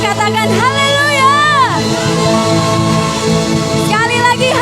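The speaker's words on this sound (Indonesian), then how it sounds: "Dengan keras sama-sama sekali lagi tepuk tangan dan katakan haleluya" A church congregation at a Sunday worship service shouts hallelujah together, loud crowd voices rising and falling in pitch with whoops, while clapping is not clearly distinct beneath them.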